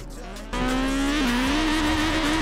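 A drag race car launching at the start line of a Forza Horizon 4 drag mod race: a steady idle, then a sudden loud jump into a high, strained engine whine that dips briefly at the shift before climbing again, close and constant.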